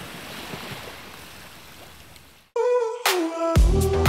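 Ocean waves at the sea wash in a soft, continuous hiss for a couple of seconds before bright melodic tones abruptly take over and drown them out.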